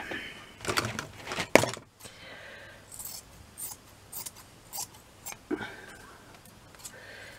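Scissors snip through light chiffon fabric in a series of crisp cuts, a few quick snips followed by slower, spaced-out ones, close by.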